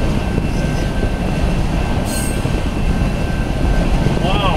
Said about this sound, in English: Wow, it's a long train.